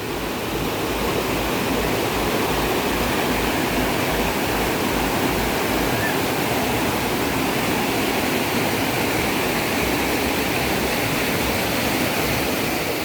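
A river flows steadily at Lawe Sikap in Kutacane, Aceh Tenggara, giving a loud, unbroken rush of water with no voices heard.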